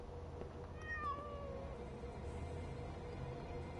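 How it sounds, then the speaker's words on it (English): In the Frightence video game, a cat gives a single short meow, faint and slightly distant over a low, constant ambient drone. "Cat?"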